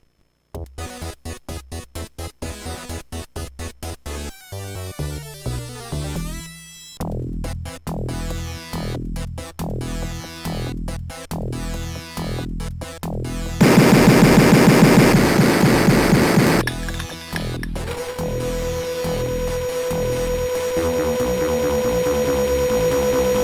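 DOS video game audio played back through a CMI8738 PCI sound card: choppy synthesized effects and bursts of rapid clicks, a loud noisy stretch midway, then a sustained buzzing tone, all electronic with no talk.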